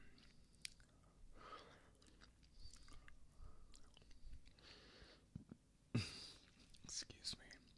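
Soft, close chewing and wet mouth sounds from eating Nutella, with sticky smacks and small crunchy bites over a low hiss, plus whispered speech throughout.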